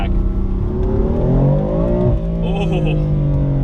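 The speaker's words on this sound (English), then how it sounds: "even at 20 miles an hour with a DCT transmission, you just shift into first, and the noise comes back" BMW M4 with a Dinan S2 exhaust, S55 engine and DCT transmission, pulling in first gear at low speed, a loud close engine drone rising in pitch, briefly dipping around a shift, then roaring on.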